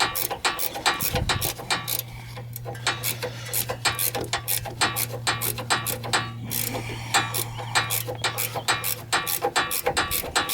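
A socket wrench ratchets on the sway bar end link nut of a 2008 Dodge Avenger, giving quick, close, repeated clicking bursts over a steady low mechanical hum.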